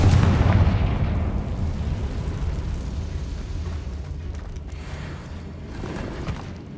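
A Confringo explosive spell bursts in Hogwarts Legacy, a heavy boom at the start trailing into a long rumbling, crackling decay of debris that stays fairly loud throughout.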